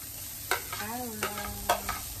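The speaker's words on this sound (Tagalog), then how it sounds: "Ilagay naman po natin ang carrots." Carrots being stirred into sautéed onion and garlic in a pan: a steady sizzle with a few sharp scrapes of the spoon, and a faint tonal whine running underneath.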